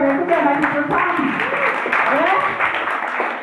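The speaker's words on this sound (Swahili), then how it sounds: "Pigieni makofi wakienda huko" Applause from a church audience: continuous, fairly loud clapping for the whole stretch, mixed with voices and crowd noise.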